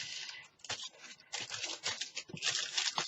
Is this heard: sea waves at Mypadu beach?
no